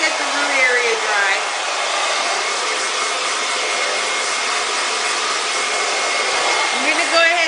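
A handheld hair dryer blows steadily and loudly up close while drying hair at the roots through the crown for volume in a salon, its whir shifting slightly in pitch as it moves.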